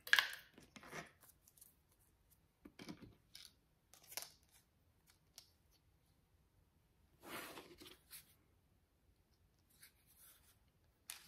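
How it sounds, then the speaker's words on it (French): Scissors snip through paper to shape a paper flower, giving a few faint, close, isolated cutting sounds separated by quiet pauses. "Donc là, du coup, je coupe."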